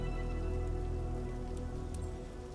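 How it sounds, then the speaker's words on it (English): Rain and snow weather in Microsoft Flight Simulator 2024, set to live weather, heard as a steady, even hiss of rain drumming on surfaces, continuous and alone throughout. "Rain and snow."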